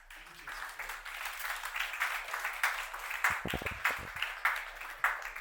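Audience at the Mentorship, Entrepreneurship, and Networking Conference 2024 applauds steadily for several seconds, a full room of clapping with rhythmic swells and no talking.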